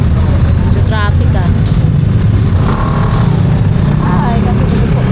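Steady road traffic rumble fills the scene, with cars and motorbikes passing close by in a continuous low roar, while voices talk over it at moments.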